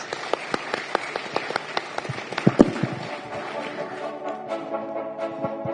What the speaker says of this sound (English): please give a big round of applause to our speakers